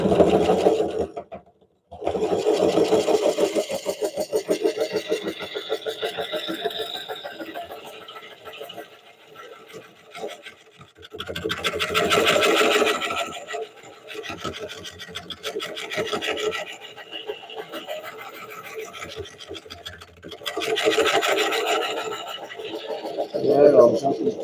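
An oak bowl spinning on a wood lathe is worked with a scraper in several long, rasping passes separated by pauses, close by, with someone talking during the gaps.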